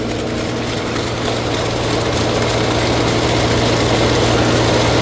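Sonalika Tiger 75 CRDI tractor engine running freely on a banana farm, powering a PTO mulcher; a steady, loud low droning hum with constant vibration, close by and without speech.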